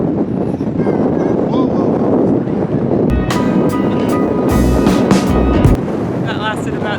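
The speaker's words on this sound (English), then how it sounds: "It's pretty windy" Strong wind buffets the microphone on a hilltop near a church in northern Sifnos, Greece, with a steady loud roar throughout and a few low gusts thumping midway, while people talk.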